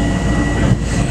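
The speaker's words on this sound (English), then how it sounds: "we just got off from the Far Rockaway train" Far Rockaway commuter train, a steady close low rumble of rail cars with faint rolling clatter throughout.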